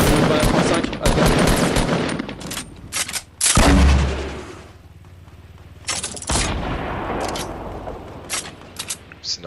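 Dense gunfire in a Fortnite match, loud continuous automatic bursts and booms with a brief lull midway before the shooting resumes.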